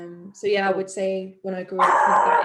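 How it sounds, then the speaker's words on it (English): A dog barking at a car arriving outside, several sharp barks and yips close by, overlapping someone speaking during a home interview. "sorry about the dog"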